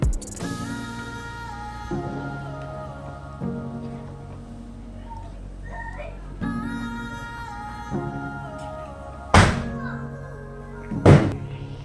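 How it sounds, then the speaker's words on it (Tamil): Two sharp Diwali firecracker bursts pop outside a few seconds apart, over a quieter background of sustained ringing tones. "இப்போ உங்களுக்கு பட்டாசு சவுண்டு கேட்கும்னு நினைக்கிறேன்"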